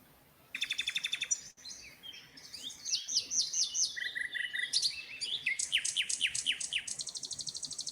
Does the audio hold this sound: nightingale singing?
yes